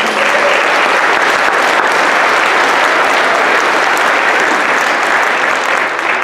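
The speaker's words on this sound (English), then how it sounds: "Can we give them a round of applause?" Steady, dense applause from a church audience honoring Sunday and Wednesday school leaders at a Christmas program, sustained and loud throughout without a break.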